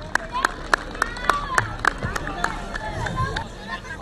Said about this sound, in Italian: Un applauso per la categoria esordiente.